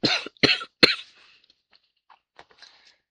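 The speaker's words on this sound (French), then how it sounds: "je sais que c'est désagréable d'entendre quelqu'un tousser" A person coughs three times in quick succession, close and loud, followed by a few faint throat noises and small sounds trailing off into near silence.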